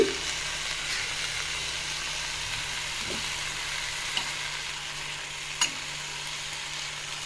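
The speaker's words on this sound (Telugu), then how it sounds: "ఆయిల్ వేసుకొని ఫ్రై చేసుకున్నాము" Ingredients for amaranth chutney frying in a little oil in a pan, giving a steady close sizzle with a few faint clicks of stirring, and no talk.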